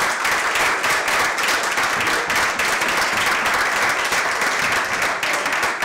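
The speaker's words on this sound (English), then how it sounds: "give Bob and Diane a round of applause." An audience gives a round of applause at a gathering held at a historic corn grist mill, dense clapping that stays loud and even throughout with no talking over it.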